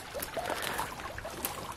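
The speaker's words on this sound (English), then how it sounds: "Love the sound of running water" A small stream runs through woodland on the site of an old medieval fishery in Bedfordshire, giving a faint, continuous trickle and babble of water with small splashes, heard alone.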